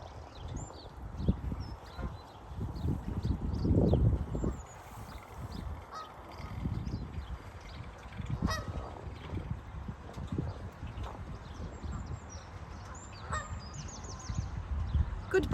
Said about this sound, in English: Goodbye, goose.